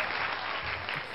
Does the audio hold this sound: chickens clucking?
no